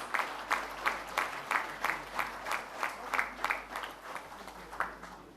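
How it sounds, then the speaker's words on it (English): A corporate event audience gives a steady round of applause, with even rhythmic clapping in pulses that holds at moderate loudness for several seconds. "A big round of applause, ladies and gentlemen, for this lady"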